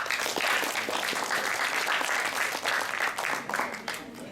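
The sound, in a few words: audience applause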